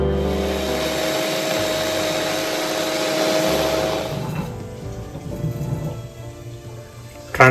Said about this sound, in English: Onto a blender,